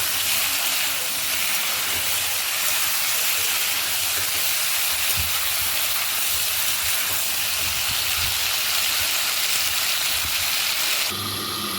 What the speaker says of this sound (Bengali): একটু হালকা লালচে লালচে ভাজবো।